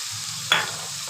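Soaked Gobindobhog rice fries in a pan as a spoon stirs it, giving one sharp scrape over a steady soft sizzle, close and without talk.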